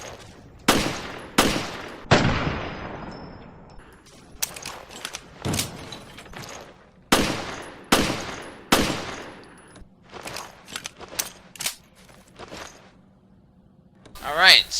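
The government handgun fires in the video game Resident Evil: Revelations, giving sharp, loud gunshots in irregular groups with mechanical clicks between them. Someone talks over the shots.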